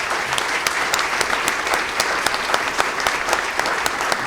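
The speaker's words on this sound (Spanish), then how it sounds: "por lo cual les pido un aplauso para Axel Didrikson." An audience claps for a distinguished visiting speaker at an academic event, a dense, steady round of applause with crisp individual claps throughout, fairly close and without any talk.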